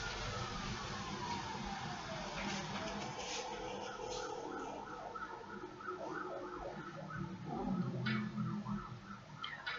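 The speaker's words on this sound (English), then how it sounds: "There are sirens going off outside." Emergency sirens wail outside, heard through a window over steady background noise, with a faint falling tone early and some louder moments near the end.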